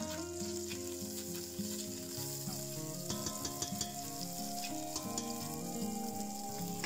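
Veal pieces browning in butter for a Hungarian goulash, giving a steady, close sizzle and crackle with the occasional stir and scrape of the pan throughout, with no talking.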